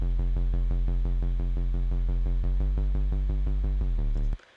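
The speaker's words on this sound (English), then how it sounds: "Let me play you the bass without the EQ." Drum and bass bassline played dry with no equalisation, a loud sustained low synth bass pulsing in a steady repeating rhythm for about four seconds before cutting off abruptly.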